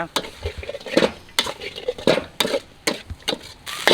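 Catfish with Thai basil is stir-fried over low heat, with loud, rhythmic scraping and clattering of a spatula in the pan over a soft sizzle, close up and without talk.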